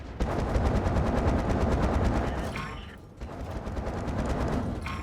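Sustained rapid-fire autocannon and machine gun fire in World of Tanks, a loud, steady stream of shots with a short gap before firing resumes, a voice faintly beneath.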